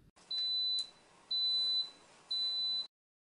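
An easYgen 1000 generator controller sounds its alarm: three evenly spaced, sustained high-pitched electronic beeps, each about half a second long, clear and alone against a quiet background.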